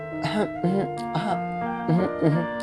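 A voice imitates throat clearing with about five short, voiced "ahem" sounds in quick succession, close and clear.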